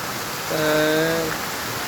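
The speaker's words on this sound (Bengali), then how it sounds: "এতদিন অপেক্ষার পরে নেপালে প্রচুর বৃষ্টি হচ্ছে।" Heavy rain falls in Nepal as a steady, even hiss, with a brief tonal sound rising above it midway.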